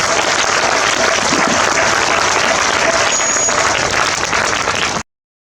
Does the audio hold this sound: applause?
yes